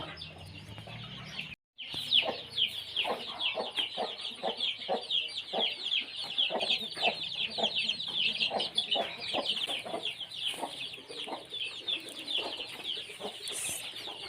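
Chickens cluck steadily on a farm, a dense, continuous chorus of overlapping clucks and short calls from several birds nearby, broken by one brief dropout near the start.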